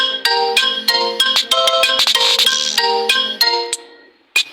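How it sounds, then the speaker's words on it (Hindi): A mobile phone ringtone plays close and loud, a bright repeating electronic melody of quick stepped tones that runs for several seconds before stopping, with a short clatter at the end. "और फ़ोन आ रहा है"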